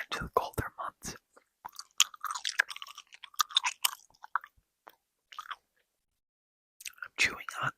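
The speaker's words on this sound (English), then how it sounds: "I'm chewing on some extra bubblegum tonight." Bubblegum being chewed close to the mic in sticky, irregular bursts with a few soft whispers, pausing into near silence around the middle before a final smacking burst.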